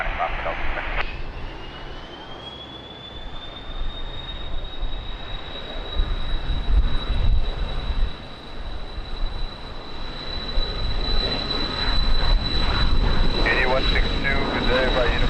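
An airplane at Lisbon Airport rumbles with a steady turbine roar and a high engine whine, loud and sustained over windy noise, with talk in the background.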